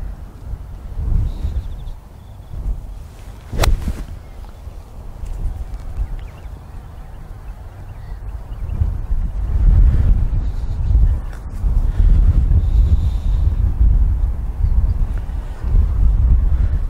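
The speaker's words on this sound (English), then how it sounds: "Boy, that's that wind is strong." Strong gusty wind buffeting a microphone outdoors, a low rumbling roar that swells and fades in waves, loudest in the second half, with one sharp knock early on.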